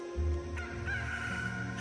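A rooster crows once as a sound effect within a Bible reading, a strained call rising then holding a long drawn-out note, fairly close and clear with no talk over it.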